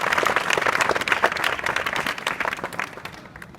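A hall full of students and staff at a school workshop breaks into loud, dense clapping right up close, holding strong before thinning and fading toward the end.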